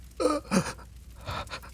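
A voice imitates labored, struggling breathing with a few strained gasping breaths, close and fairly quiet, separated by short pauses.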